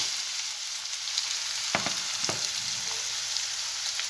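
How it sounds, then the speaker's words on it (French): Chopped pepper and onion tipped into hot oil in a frying pan give a steady, close sizzle, with a couple of sharp clinks partway through. "J'ai coupé en petits morceaux le poivron et l'oignon et je vais le verser donc dans l'huile."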